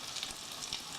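An omelette fries in a pan, giving a steady, soft hissing sizzle that stays even and close for about a second with no voices.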